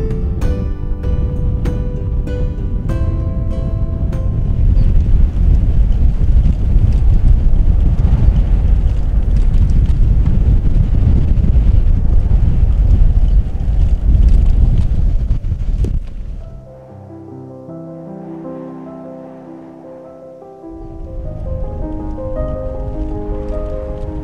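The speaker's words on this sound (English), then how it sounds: "Man, it's so windy up here" Strong wind buffets a cyclist on an exposed hilltop road while touring between England and Wales, a loud, steady roar of gusts that eases near the end as other tones come in.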